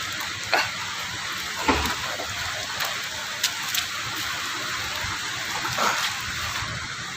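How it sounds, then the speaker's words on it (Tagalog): Very heavy tropical rain pouring down steadily in a dense, even roar, with occasional louder splashes and gusts, close and enveloping throughout with no talking. "Sobrang lakas na ulan."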